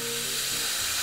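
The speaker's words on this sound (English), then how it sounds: "before we steam any kind of milk, it's important to purge the steamer to get rid of any water built up in the steam pipe" An espresso machine steam wand being purged through a cloth before milk steaming, a steady broadband hiss of steam that holds for the whole second at an even, close level with no talk.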